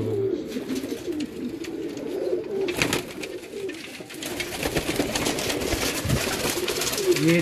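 A champion red pigeon from Multan coos in low, rounded repeated calls, close by, amid faint background rustle and ambient noise.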